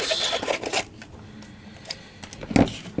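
Scissors snip and crunch through coarse burlap while star shapes are cut out, a few close, rough cuts bunched at the start and again near the end, with quieter handling between.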